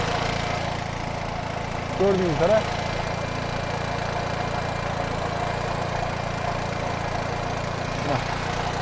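A small tractor engine idles with a steady low drone throughout, while someone speaks briefly over it.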